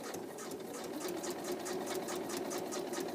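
A sewing machine runs steadily, stitching across the top of a fabric project in one continuous, even mechanical whir with a rapid rhythmic needle pulse, close and alone for about three seconds.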